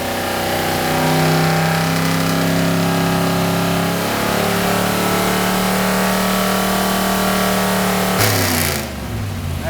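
A 10-to-1 compression BluePrint crate engine on 91 octane runs steadily on a dyno, a loud close drone with strong harmonics, cutting off abruptly near the end.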